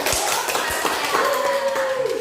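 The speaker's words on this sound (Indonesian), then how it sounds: "Iya, betul sekali, kita beri tepuk tangan." A classroom of students claps for a classmate during a school lesson, steady dense clapping throughout with a teacher's voice briefly rising over it.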